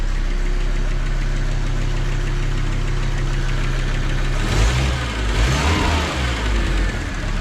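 An Audi Coupe engine, freshly oil-changed and back after a year unused, runs steadily at a loud close idle with a low uneven knock, then swells as it is revved briefly before settling again.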